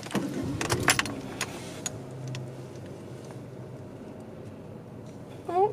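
Car keys jangle and click near the start, a few quick metallic rattles around a car's ignition, then a quiet stretch of cabin ambience and a brief rising whir at the end.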